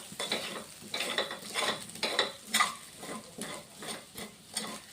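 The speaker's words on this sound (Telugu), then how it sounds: "స్టీల్ గరిటె కదా సౌండ్ వస్తుందని నేను పైన పైన కలుపుతున్నా" A steel ladle stirring taro root fry in an oily pan, with repeated rhythmic metallic scrapes and clinks over a low sizzle, close and fairly quiet, with no talk.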